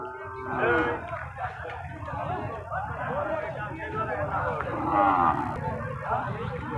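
Cattle and calves at a busy rural livestock market give occasional lowing moos beneath constant crowd chatter, and someone talks nearby.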